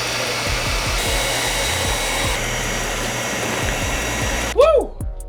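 A hair dryer runs steadily to heat vinyl wrap off a car body, a continuous loud whooshing drone throughout with faint rhythmic thumps underneath, ending in a brief louder burst as it shuts off.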